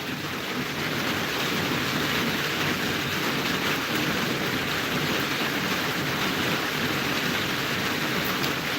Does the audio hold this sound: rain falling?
yes